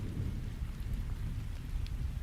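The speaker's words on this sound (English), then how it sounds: "the rain and the thunder started pouring" Heavy rain pours steadily with a low, continuous thunderstorm rumble underneath, a dense, unbroken roar with no voices.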